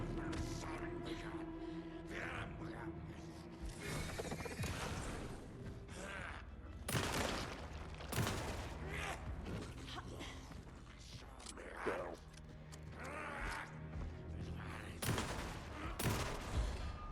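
Repeated gunshots ring out in Alan Wake 2 on Nightmare Mode: bursts of sharp reports with mechanical clatter among tense background sounds, and loud shots spaced through the passage, with occasional breaths and gasps.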